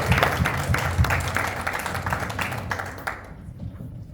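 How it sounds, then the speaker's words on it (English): Audience applause at a neighborhood board candidate forum: a crowd claps briskly and unevenly for a few seconds, then tapers off into quieter room sound. "Applause to you."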